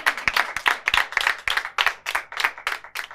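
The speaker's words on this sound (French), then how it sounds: "Zeynab, on applaudit" Audience applause at a live stage show, a burst of hand claps rising and falling in quick waves, fairly close and loud, with no talk over it.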